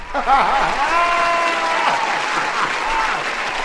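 At an R&B showcase night, a crowd applauds and cheers for a DJ, the clapping blending with whoops, excited voices and some laughter in a lively, continuous burst.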